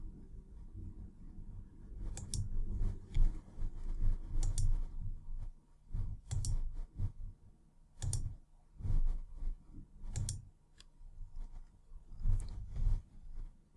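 Mouse clicks on software buttons in the ProRealTime trading platform's settings, sharp dry taps in irregular clusters and pairs, close and distinct against a quiet background.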